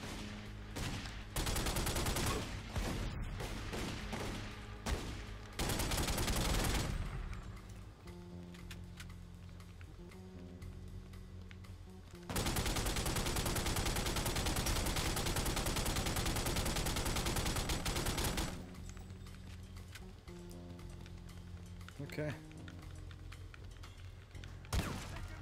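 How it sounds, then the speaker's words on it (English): Video game gunfire at the Granados Compound, dense loud volleys and rapid bursts that switch between sharp separate shots and long continuous stretches of shooting. "Are they still fucking shooting at us?"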